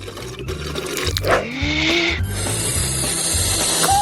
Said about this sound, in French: Je vais faire des bulles.